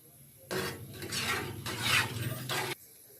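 Whole spices (cardamom, black peppercorns, cloves) stirred in hot oil in a pan: a scraping, sizzling rasp in three or four sweeping strokes, fairly close and loud, with no talk.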